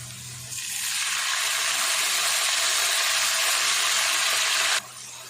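A steady, loud sizzling hiss rises abruptly as water is poured into onions frying in a hot pan, holding evenly for several seconds before cutting off.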